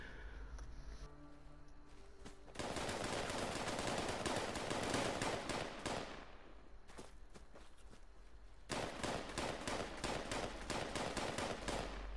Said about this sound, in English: They're shooting each other with 10 mils